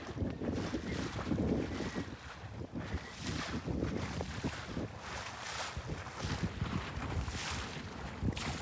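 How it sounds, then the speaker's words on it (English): Small sailboat, a Drifter 17 or West Wight Potter 15, sailing in strong afternoon wind, with heavy gusting wind buffeting the microphone over water rush and sloshing, loud and continuous with no talk. "it was our turn to catch some of the great afternoon wind in our sails"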